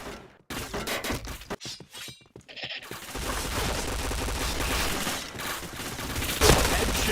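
Gunfire in a video game shooter: rapid bursts of shots and impacts, dense and loud, with brief gaps early on and continuous clatter afterward, overlapping game sounds and faint talk.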